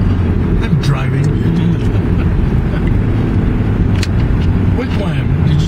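A car drives at speed with a constant low engine and road rumble under the whole stretch, loud and close from inside the cabin, while people talk over it.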